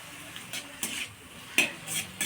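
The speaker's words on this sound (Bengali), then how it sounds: "এরপর আমি আলু ফুলকপিটাও সাথে অ্যাড করে দিলাম। তার পাশাপাশি একটু হলুদ দিয়ে আমি ভালো মতো এটাকে নাড়িয়ে নিচ্ছি" Potato and cauliflower fry with turmeric in a pan under a soft, steady sizzle, while a spoon scrapes and clinks against the pan in several separate strokes.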